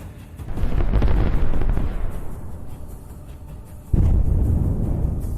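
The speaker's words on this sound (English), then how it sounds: "Artillery accurately destroys the IFV with a precise shot" An artillery shell striking a Russian infantry fighting vehicle: loud, rolling blast rumble that swells and fades, then a sudden heavy boom followed by sustained roaring noise.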